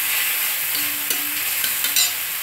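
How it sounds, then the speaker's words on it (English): A short burst of frying as a stuffed tomato and egg mixture is stirred in a pan, with a bright sizzle and a few quick spoon scrapes close by. "mix this and cook for another minute"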